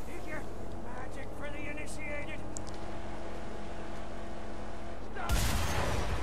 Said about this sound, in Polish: Bajunia, jeszcze jeden strzał tam oddamy.